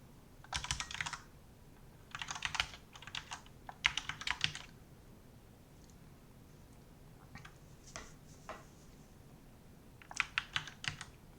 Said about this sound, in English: I have what's they called, MX red switches in my mechanical keyboard.